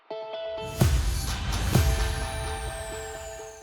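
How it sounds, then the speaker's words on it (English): Progressive house transition with two heavy drum-fill hits and a long falling downlifter sweep over sustained synth tones, loud and upfront with no voices. "I added some drum fills and downlifters."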